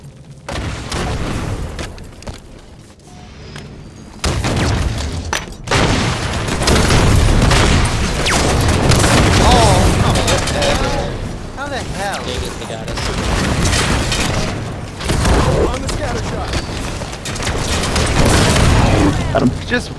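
Rocket blasts and heavy gunfire keep going during a Rust raid match, loud booming bursts that roll and overlap for about twenty seconds. Players talk excitedly over the blasts.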